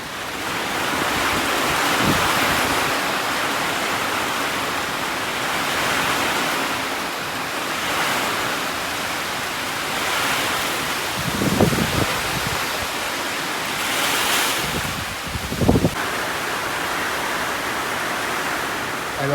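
Heavy rain drums steadily on a sheet metal roof, a dense continuous hiss and roar with a few louder thumps and gusts, heard up close with no talking.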